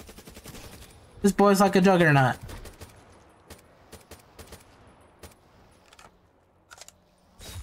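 Rapid bursts of gunfire aimed at a creature in a Black Ops 3 custom zombies map, a dense close volley early followed by scattered single shots, with someone talking over it.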